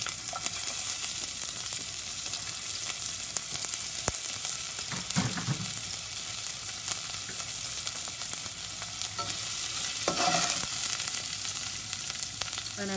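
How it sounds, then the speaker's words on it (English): Thinly sliced half onion frying in a very hot pot for refried canned beans, a steady loud sizzle and crackle throughout with brief stirring clatter. "You want your pot to be really hot so they can fry up. And I'm gonna go ahead and add half an onion."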